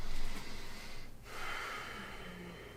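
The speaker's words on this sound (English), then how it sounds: "Let's take a couple nice deep breaths here." Deep breathing in a yoga class: a long, audible inhale, a brief pause, then a slow, breathy exhale, close and fairly quiet, with no talking.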